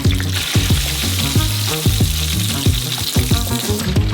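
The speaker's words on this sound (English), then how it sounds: "We're going to keep frying the rest of the wedges the same way." Potato wedges fry in hot oil with a continuous bright sizzle, punctuated by repeated knocks and clatters of utensils moving the pieces around, close and loud.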